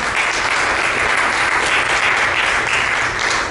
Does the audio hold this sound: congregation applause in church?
yes